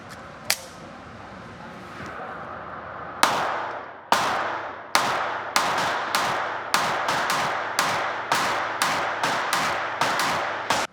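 SIG P365 pistol fired during a 5,000-round duty barrel torture test, sharp loud shots outdoors, a few spaced at first and then a fast steady string of about a dozen rounds, each with a short echoing tail.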